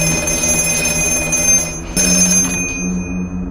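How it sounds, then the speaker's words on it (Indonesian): A telephone rings loudly and close, a continuous electronic bell-like tone with a short break in the middle before it resumes, no talk. "Tak lama kemudian, telepon itu kembali berdering"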